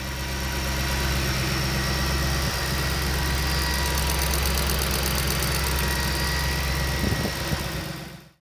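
Supercharged Ford Mustang GT500 engine droning steadily from inside the car while driving, a loud constant low rumble with a faint whine above it and no talk.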